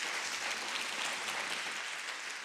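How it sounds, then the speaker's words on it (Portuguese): A church congregation claps together in steady, dense applause, a continuous wash of many hands filling the room for a couple of seconds. "dá uma salva de palmas para Jesus"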